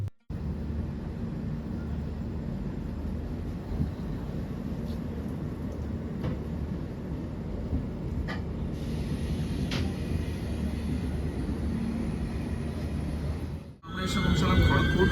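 The Garib Rath Express rolls into Kharagpur station with a steady low rumble of wheels and carriage noise throughout, a thin high whine in the background and a brief clatter near the end.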